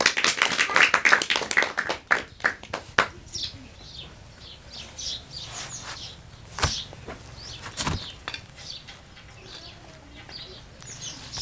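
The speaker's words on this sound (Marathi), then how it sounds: "टाळ्या वाजवा." Classroom students clap on the teacher's order: a quick burst of sharp, fairly close claps over the first few seconds, thinning to a few scattered claps with quiet gaps.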